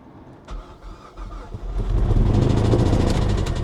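A modified Mazda 3 engine runs badly, starting with rough, uneven sputters that swell into a loud, strained roar that holds steady close by.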